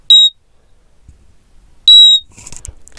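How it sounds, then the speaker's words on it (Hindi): A homemade satellite finder meter's buzzer gives two short, sharp, high-pitched beeps about a second and a half apart, loud against near silence, followed by faint handling clicks. "बीप साउंड इसमें देखिए"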